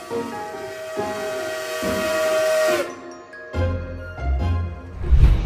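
A slow train creaks over damaged rock ballast, a long steady whistle-like squeal holding for a few seconds before breaking into low rumbling thumps and hissing rail noise close by.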